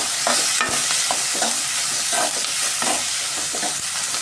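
Onion and garlic sautéing in a pan for a spicy kuzhambu, a steady broadband sizzle with repeated spatula scrapes and stirring strokes, close and continuous, no voices.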